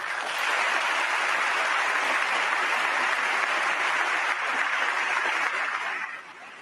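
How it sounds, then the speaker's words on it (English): Prolonged, intense applause from a standing ovation greeting a recorded political speech on terrorism, a dense unbroken roar of many hands clapping at steady loudness, easing slightly at the very end. "there you saw some intense applause, a standing ovation, prolonged applause"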